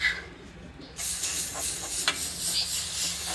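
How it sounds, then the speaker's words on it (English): Non-stick cooking spray hisses out of the can onto a pan outdoors in one steady, close burst lasting a few seconds. "I added my non-stick spray to my pan"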